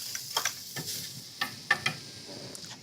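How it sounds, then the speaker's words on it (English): Shallots fry in olive oil for a mushroom sauce, giving a soft, close sizzle broken by several sharp clicks and scrapes of stirring, with no talking. "So let's make the mushroom sauce. So some olive oil, some shallots,"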